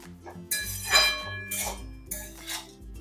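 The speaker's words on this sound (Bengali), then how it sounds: "মোচার সাথে বাকি মশলাগুলো খুব ভালো করে কষিয়ে" Banana flower (mocha) is stir-fried with spices in a pan on a low flame, with a metal utensil scraping and clinking against the pan in irregular strokes close by. No one speaks.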